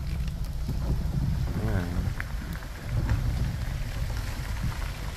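Rain falling during flooding in La Paz, El Salvador, a steady broadband hiss mixed with wind noise and a low rumble, continuous throughout with faint voices.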